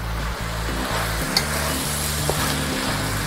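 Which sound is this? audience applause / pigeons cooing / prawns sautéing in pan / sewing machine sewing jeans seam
prawns sautéing in pan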